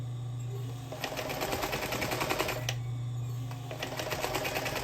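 A sewing machine back stitching a zipper pouch runs in two bursts of rapid mechanical clatter, stopping briefly in between, close and fairly quiet.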